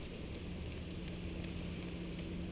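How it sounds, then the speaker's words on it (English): Steady rain falls in a broadband wash throughout the haunted setting of Fatal Frame: Maiden of Black Water, with a faint low hum beneath, continuous and even, no voices. "Oh, that's not a radio. That's just the rain."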